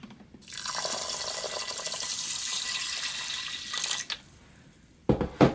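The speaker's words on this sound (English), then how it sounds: "we're going to wash the rice. So I'm just going to wash it in the Instant Pot." Tap water pours steadily into an Instant Pot to wash rice, then stops, followed by a few close splashes and knocks of grains and water being swirled.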